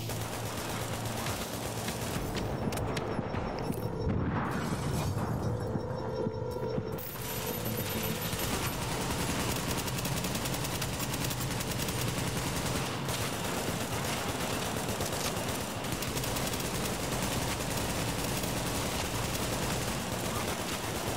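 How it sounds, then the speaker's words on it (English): Sustained automatic gunfire from a turret in The Division 2, a dense, continuous rattle of shots with mechanical clatter filling the whole stretch, loud and unbroken with a brief thinner patch early on. "Goddamn turret over there, that's what's shooting us."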